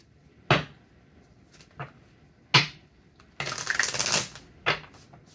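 Playing cards, likely a reading deck, are handled and shuffled close by, giving a few separate sharp riffles and snaps, then a longer dense rustling shuffle, followed by one more crisp riffle.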